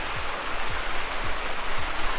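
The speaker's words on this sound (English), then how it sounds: "Little waterfall." A small waterfall pours into a rock pool in Litchfield National Park, giving a steady, close, full rush of splashing water with faint low thumps recurring underneath.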